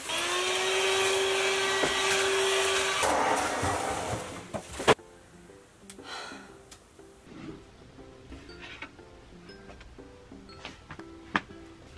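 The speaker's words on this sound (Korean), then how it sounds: "청소기 한번 밀어야겠는데?" A vacuum cleaner runs steadily, sucking up sawdust left from assembling furniture indoors, then cuts off after about five seconds, followed by scattered light clatter and handling noises.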